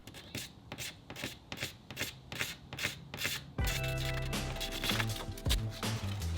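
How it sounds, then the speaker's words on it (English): Scraping paint on a Subaru WRX body panel, a rapid series of rhythmic rasping strokes that shifts partway into a louder, denser scrape with a low thump, close up. "I'm just gonna keep scraping it down until it feels relatively flat compared to the rest of the surface"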